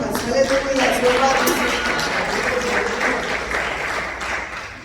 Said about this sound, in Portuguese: Vamos exaltar o Senhor com as palmas.